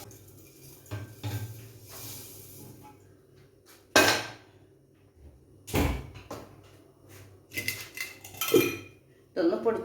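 Dried bird's eye chillies are stirred in a pan over a low flame for an elumpikka pickle, with a metal spoon clanking against the pan in scattered, loud knocks between quieter stretches.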